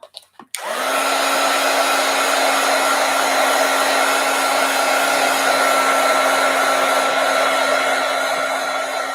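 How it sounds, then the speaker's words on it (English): A heat gun blows hot air over a journal page, switching on after a brief clatter and then holding a loud, steady whooshing roar with a constant motor whine for the rest of the span. "Heat gun alert."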